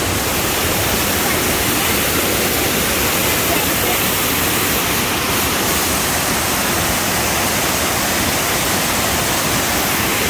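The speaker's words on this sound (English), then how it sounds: "The waterfall even comes down the stairs." Bond Falls waterfall in Michigan, water pouring down in a loud, steady broadband roar that fills the whole stretch without a break, heard up close.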